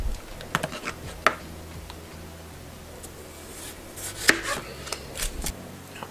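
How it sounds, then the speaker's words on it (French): A knife cuts potatoes into fairly thin slices on a board, a few crisp close chops spaced irregularly over a low steady background, with no talking. "couper mes pommes de terre en tranches assez minces"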